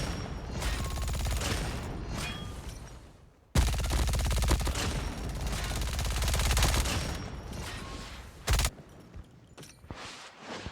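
Bursts of rapid MG 42 machine-gun fire from a video game, loud and sustained, broken by a brief pause and a sharp single blast near the end.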